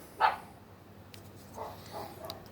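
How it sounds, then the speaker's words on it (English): A single loud honk rings out close by, followed by a few softer, more distant honks from geese. "don't mind the geese barking"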